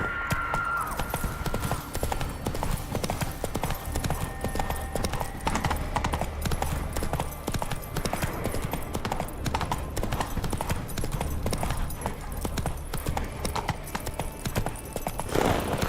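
Rapid, rhythmic hoofbeats of a galloping horse in Witcher 3 pound on continuously for the whole stretch, loud and steady over ambient game sound, with no talk.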